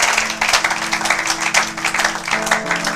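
A church congregation claps steadily and loudly in a sustained, rhythmic burst of applause, with a faint underlying hum.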